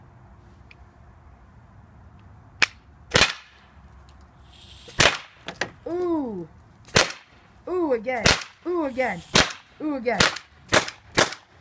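A paintball gun fires at an iPod in a string of sharp, close cracks, spaced irregularly, with whooping voices and a brief spoken reaction between shots.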